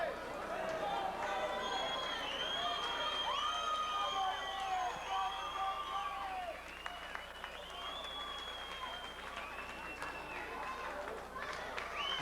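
An amateur boxing crowd waits for the judges' decision, a busy hall of overlapping voices, shouts and scattered clapping, with a loud surge early that settles into lower murmuring chatter.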